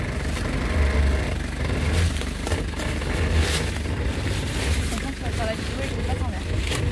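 A 4x4 crawling slowly during off-road rally training, its engine a steady low mid-pitched hum under continuous close talk from the occupants.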